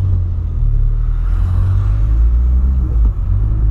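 VW Polo engine with a new 4-inch exhaust, a loud, steady, deep rumble close by with slight swells in pitch, and nobody talking over it.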